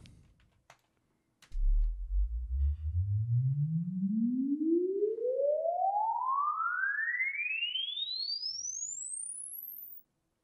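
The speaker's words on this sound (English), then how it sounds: "record the result of the sweep file through the reverb unit" A smooth pure sine tone sweeps steadily upward from a low hum to a very high whistle over several seconds, played through a Bricasti reverb unit on its Studio A preset, then cuts off, with a faint reverberant tail.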